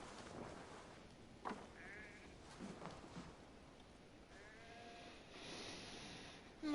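Sheep bleat in an Assassin's Creed Valhalla farm scene, several wavering calls spread over a steady ambient bed, moderately close and alone without talk.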